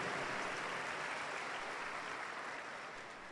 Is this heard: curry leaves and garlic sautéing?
no